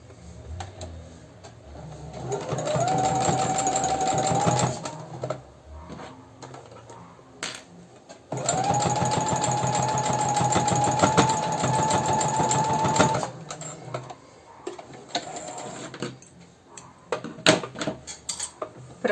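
Sewing machine stitching a baby's Japanese-style slipper with a security seam from tip to tip, running in two steady bursts of several seconds each with a short pause between, close and fairly loud, with handling clicks around them.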